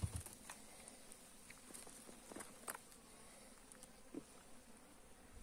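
Faint, steady buzzing of many honey bees in a small four-frame hive, with scattered soft taps and rustles over a quiet background.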